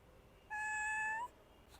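A cat by a pool area gives a single clear, rising meow lasting under a second, close and distinct over quiet background.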